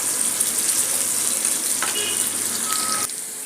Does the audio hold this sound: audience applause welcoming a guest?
no